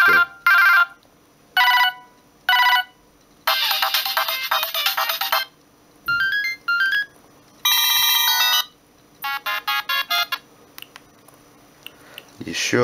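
Several short polyphonic ringtones from a Siemens CT65 mobile phone, a T-Mobile variant of the C65, play in quick succession as bright melodic bursts and jingles with brief gaps between them, loud and close.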